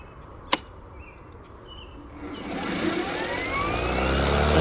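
A RYOBI electric lawn mower with a delayed start gives a sharp click, then its motor winds up gradually over a couple of seconds into a loud, rising whir close by.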